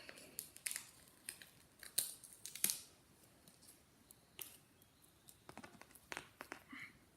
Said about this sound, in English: So I'm just gonna trim all of it.